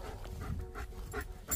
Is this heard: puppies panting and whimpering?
yes